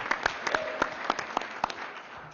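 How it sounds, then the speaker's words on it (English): A hearing audience applauds a panel's guests with a short burst of sparse, distinct claps from a small group. The claps land in a quick, uneven rhythm, then fade into room noise. "Also, a big round of applause for Mayor Giuliani and her legal team, and Jenna."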